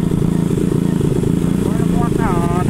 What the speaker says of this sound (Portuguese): A moto agora anda, não anda?